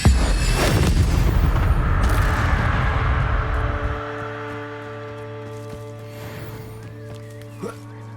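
A blast from the Incendio fire spell in Hogwarts Legacy: a loud, booming roar that sustains for several seconds and slowly fades into a steady humming tone, with a short voice heard over the opening.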